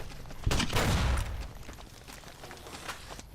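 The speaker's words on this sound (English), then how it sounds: "Grenade rifle." A grenade rifle fires in Fallout: New Vegas with a heavy, booming discharge, loud and close. The blast rumbles and decays over about a second, followed by fainter scattered pops and background game noise.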